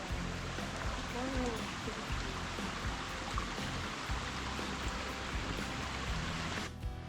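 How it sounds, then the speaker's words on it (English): Brassie Brook flows steadily nearby on the Appalachian Trail in Connecticut, a soft continuous burble and trickle with faint background noise throughout. "This is the Brassie Brook."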